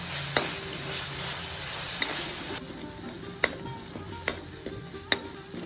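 Tomatoes sauté in hot oil for a raw banana kurma, a continuous close sizzle broken by several sharp spatula taps and scrapes against the pan.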